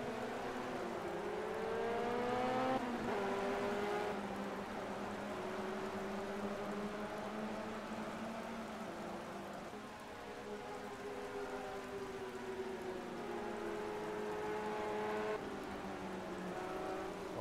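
A vintage Lotus 51 race car engine in the Project CARS video game drones and revs steadily, rising and falling in pitch through gear changes, with a constant hiss under it.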